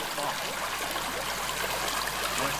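Creek water flows through the woods in a steady, dense rushing wash that stays constant throughout, with no distinct voices standing out.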